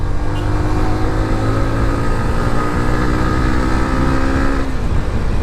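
Yamaha R15 V2 motorcycle engine held at high RPM during a top-speed run, a loud, steady, buzzing drone with no pauses that eases slightly near the end.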